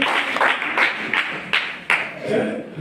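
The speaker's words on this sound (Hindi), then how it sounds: "और एक बार और तालियां इस बच्चे के लिए।" Scattered clapping for a student at a New Year gathering of schoolchildren, several distinct claps with uneven timing from a small group nearby.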